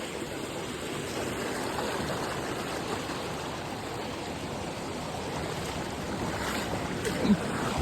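Steady broadband rush of flowing water, continuous and fairly close, with no voices, consistent with a small stream running over rocks on the trail to Kalu Waterfall in the Sahyadri hills.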